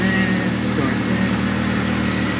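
Jeep engine running at a steady idle, a constant close mechanical hum and drone with no revving.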